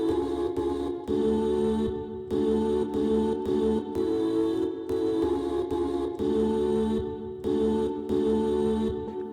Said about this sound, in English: now we can play the different portions of the sample manually with our keyboard